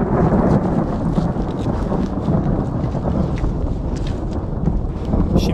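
Thunder rolling through a storm over the ancient temple site at Gerga in Caria, a steady dense rumble mixed with rain and wind noise, loud and continuous with no clear single crack.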